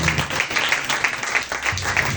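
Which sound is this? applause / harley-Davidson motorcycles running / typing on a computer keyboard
applause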